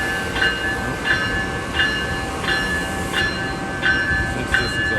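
Electric passenger train passing on the Northeast Corridor, a loud steady rumble of rolling cars with evenly spaced rhythmic wheel clicks about every two-thirds of a second and a faint tonal whine above.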